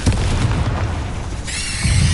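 A Confringo blasting spell explodes in Hogwarts Legacy, a heavy booming burst followed by a bright crackling tail, loud and close with no talk over it.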